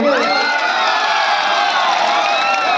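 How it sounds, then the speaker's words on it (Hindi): Supporters of the Bemetara team cheer and whoop as a dense, excited crowd at a local final match, a continuous loud roar of many voices with little sign of distinct clapping. "वो बेमेतरा के जितने भी सपोर्टर हैं वो ताली बजाएंगे"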